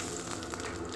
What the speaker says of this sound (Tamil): ஆயில் காயக்கும் கடுகு கொஞ்சம் போட்டுக்கலாம்.